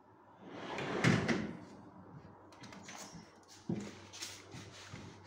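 A soft-close pull-out bottle cabinet in a furniture showroom glides open and shuts, giving a muffled thud near the start and a softer bump later, with quiet sliding and rustle around them and no talk.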